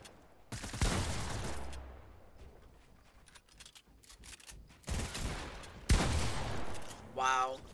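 Gunshots in the Fortnite video game crackle in bursts of rapid fire separated by quieter stretches, fairly loud and close, with someone speaking at moments.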